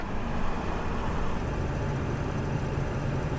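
Steady broadband road and tire rumble from a 2001 Ford F-350 pickup while driving, a continuous even roar heard from inside the cab with no speech.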